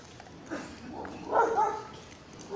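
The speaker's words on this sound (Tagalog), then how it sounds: "Ang matapang na aso." A dog barks a couple of times at moderate distance in a Philippine street setting, with a louder, sharper bark near the middle over a quiet background hum.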